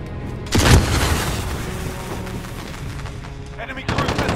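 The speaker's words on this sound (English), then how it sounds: "Enemy cruise missile incoming." Cruise missile explosion in the video game Call of Duty: Modern Warfare, a loud close boom followed by rumbling battle noise and a second burst of impact near the end.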